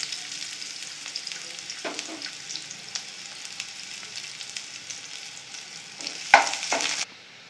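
Chopped onions frying in hot oil in a kadai for a cabbage curry, a steady low sizzle with occasional stirring scrapes and a louder burst of hissing near the end.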